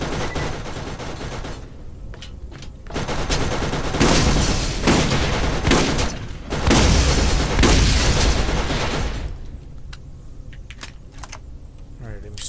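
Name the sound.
turret firing in the video game Borderlands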